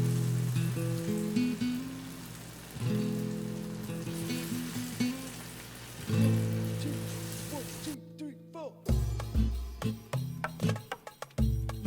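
Oil sizzles and crackles steadily as croquetas fry, with low murmuring voices and clattering bursts toward the end.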